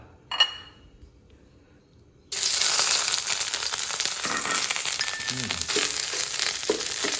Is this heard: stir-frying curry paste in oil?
yes